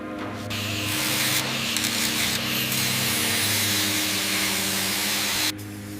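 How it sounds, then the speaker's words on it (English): Steady, harsh abrasive scrubbing of rust from a rope, close and continuous for several seconds before it stops abruptly near the end. Nobody talks. "Stroke by stroke, the rope gives up its rust to the steady hand."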